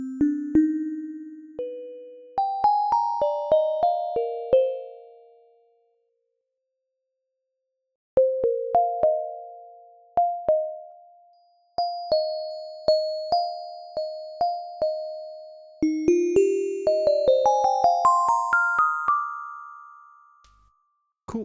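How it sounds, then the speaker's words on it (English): Pure synthesized sine tones play a stepping melody of plucky, decaying notes with thin high harmonics, pausing briefly midway; clean and electronic, no voices. "We're going to bring in another sine wave."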